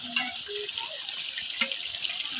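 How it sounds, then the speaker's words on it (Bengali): Water splashes steadily into a pot of beef curry that has been simmering, a continuous close pour with a few brief clinks, no voices. "তো এখন আমি পানি দিয়ে দিই।"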